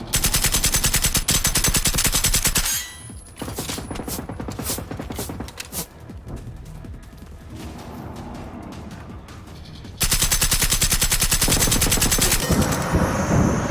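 Dense, rapid automatic gunfire from strafing in the video game Generation Zero, loud and sustained, easing into a lower rattling stretch before a heavy burst returns at full volume.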